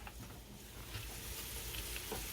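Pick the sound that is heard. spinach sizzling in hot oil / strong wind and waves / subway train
spinach sizzling in hot oil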